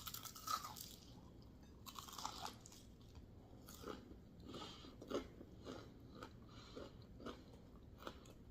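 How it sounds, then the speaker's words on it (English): Crunchy fried chicken is bitten and chewed close up, a series of sharp crackling crunches repeating every second or so, quiet overall with no talking. "did y'all hear the crunch in this chicken?"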